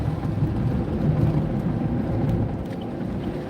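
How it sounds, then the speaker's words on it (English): Steady broadband wind rush roars through a lowered car window while driving, close and fairly loud, with engine and road rumble underneath and no talking. "It gets really windy"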